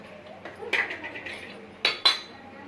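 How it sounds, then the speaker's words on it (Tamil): A kadai set down on a home kitchen stove gives a couple of sharp metallic clanks near the end, with softer cookware clinks and handling noise before them. "இந்த சைடு வந்து கடாய் வச்சுக்க போகிறோம்."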